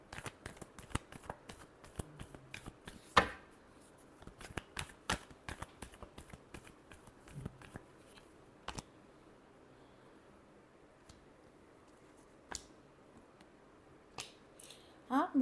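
Tarot cards being shuffled by hand, a quick series of soft riffling flicks and taps at close range, coming in short bursts with quiet gaps between them.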